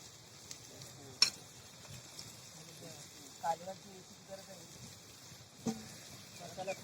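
Spiced fish mixture for a masala fish recipe being stirred and mixed in a pan, with soft scraping and occasional sharp clinks of a utensil against the pan over a faint steady hiss, quiet and close.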